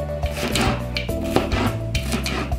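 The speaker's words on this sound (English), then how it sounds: "Cut my little green peppers up." A knife chops green peppers on a cutting board in quick, rhythmic, close strikes, with no talking.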